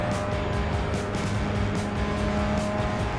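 Race car in iRacing circling a banked oval, heard from the cockpit in VR as a steady, loud engine drone with rhythmic pulsing, with no talk over it.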